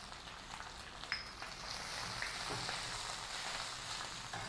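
Grated ginger, asafoetida and turmeric hiss in hot oil as a tempering for raw mango kadhi, a soft, steady sizzle with a few small pops and no talking.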